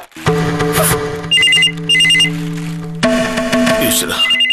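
A telephone rings loudly in an indoor TV-serial scene, electronic trilling bursts repeating over a sustained tonal drone with music-like layers; a voice briefly speaks.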